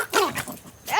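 A small dog gives a few high, quick yips with a whiny edge, heard close and loud in short bursts with brief gaps between them.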